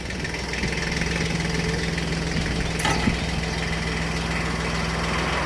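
A tractor engine runs loudly and steadily throughout, close by, with a constant low throbbing drone and a brief clatter near the middle.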